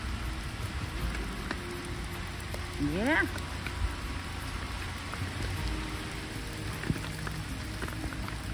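Steady rain patters on surfaces on a windy autumn day in Bergen, a continuous even hiss from start to finish, with a brief rising bird call near the middle.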